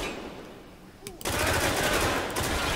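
Machine gun fire from the video game Spec Ops: The Line bursts in loud and sustained after a quiet first second, a dense, continuous roar of rapid shots that fills the rest of the moment.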